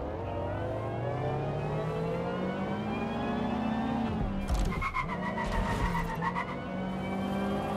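Car engine hum rising in the video game Watch Dogs: Legion, then a sharp burst of tire squealing and skidding near the end, loud and close, fading back into steady engine drone.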